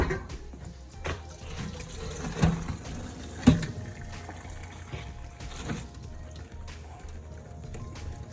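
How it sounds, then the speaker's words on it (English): Running water rinsing hot cooked noodles for mac and cheese, a soft steady trickle and splash from a tap with a few clanks of a pot or strainer. "I'm going to take it, I'm going to shock the noodles"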